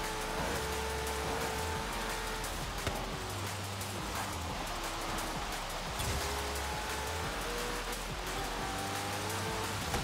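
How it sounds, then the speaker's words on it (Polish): Rain pattering steadily in the racing game Forza Horizon 3, a broad continuous hiss that mixes with a low droning car engine throughout, at a constant level with no talk. "Pada deszcz"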